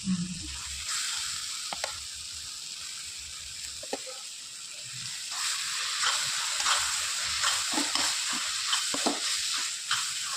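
Ginger garlic paste sizzling in a pan for crab gravy, a steady hiss with scattered crackles and stirring taps, close and moderately loud, alone without talk.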